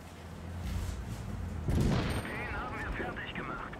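Tank gun fire in World of Tanks Blitz, with a heavy boom and rumbling battle noise rising midway through a dense, loud game soundscape, followed by warbling effects.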